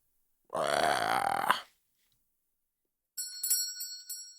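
A bright electronic door-entry bell chimes in a quick burst of repeated rings near the end, after a loud croaking burp-like sound and a stretch of silence.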